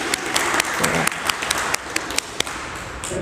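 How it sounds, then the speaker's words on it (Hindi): An audience at a women's day yoga gathering breaks into applause, a dense crowd of clapping with sharp individual claps standing out, fairly close and lively, with a little speech mixed in. "चलो ताली बजा दो इसके लिए।"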